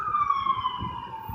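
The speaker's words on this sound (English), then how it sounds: "let it pass for a bit" An emergency vehicle's siren sounds loudly with a slightly falling tone, continuous over a low road rumble.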